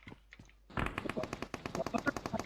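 Rapid automatic gunfire in the mobile battle-royale game PUBG Mobile, a loud burst of repeated shots after a few faint distant pops, dense and close.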